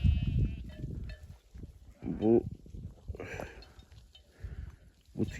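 Sheep and lambs in a mountain flock bleat in scattered, overlapping calls, some near and loud, others fainter, with someone talking between and over them outdoors.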